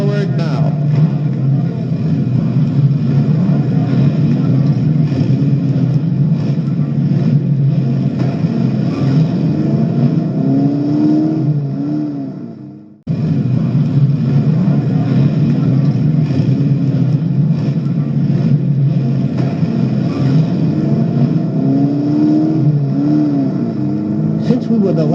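Race car engine roaring steadily at high revs, a loud continuous rumble that briefly cuts out mid-way before surging back and pulling away, with voices mixed in.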